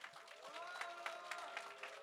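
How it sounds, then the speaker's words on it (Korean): Applause at a church youth worship service in Seoul, steady and fairly dense clapping from the congregation with a few sharper claps standing out, mid-distance and moderately loud. "큰 박수 함성"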